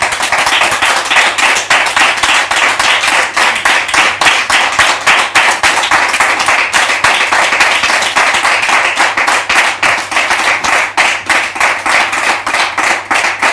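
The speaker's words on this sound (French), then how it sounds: "Merci de recevoir la prophétesse sous vos applaudissements," Studio audience applauding to welcome a guest onto a television talk show set, a dense, steady wash of many hands clapping loudly and continuously throughout, with no speech.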